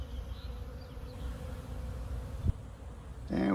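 Honey bees buzz around a backyard hive whose terracotta is crumbling, a steady close insect drone with a soft thud partway through and a louder rise at the end.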